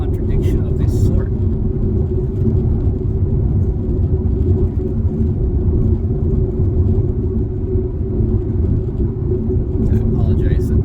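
Steady, loud low-pitched road roar and tyre rumble inside a moving car on a changed road surface, continuous throughout with little variation, and a voice talking over it.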